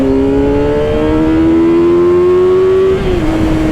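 A 2024 Kawasaki ZX-6R motorcycle accelerating hard, its engine note climbing steadily up close and loud before a gear change drops the pitch near the end.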